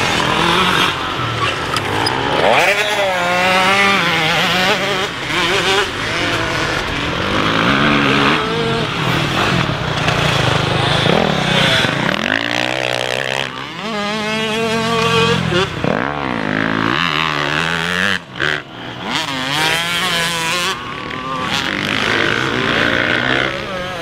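A KTM 350 SX-F motocross bike revs and runs at a motocross track, its engine note rising and falling through repeated throttle bursts and gear changes, loud and close throughout.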